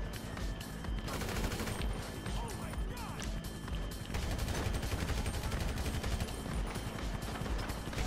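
Sustained gunfight in Grand Theft Auto V, with dense, continuous automatic fire and scattered blasts that stay loud and steady throughout, while voices talk over the shooting.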